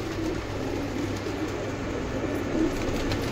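Pigeons coo softly in a kept flock, low murmuring calls against a steady background hum, faint and fairly close with no voices.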